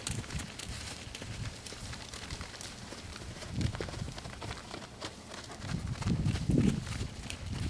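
A horse canters in a round pen during a wild-horse training session, its hooves giving an irregular, muffled thudding on soft ground that swells toward the end, fairly close and with no talking.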